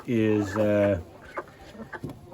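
A buff Brahma rooster calls loudly in two drawn-out, harmonic clucking bursts close by in a chicken barn, followed by quieter scattered clucks from hens.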